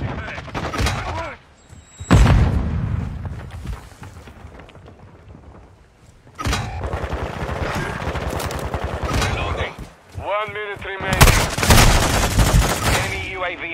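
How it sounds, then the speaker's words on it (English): Game combat in Call of Duty Modern Warfare II with a flash grenade thrown, sharp loud bursts of gunfire and a bang amid ringing effects, with rapid automatic fire and voices talking in between. "Throwing flash grenade."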